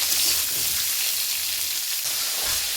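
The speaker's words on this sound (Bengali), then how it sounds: "এবারে আগে থেকে বানিয়ে রাখা কিছু গাজর, আলু এবং বিনস কড়ার মধ্যে দিয়ে ভালো করে একটু ভেজে নেব।" Carrots, potatoes and beans fry in a wok for soup chow mein, a continuous close sizzle with light stirring and no voices.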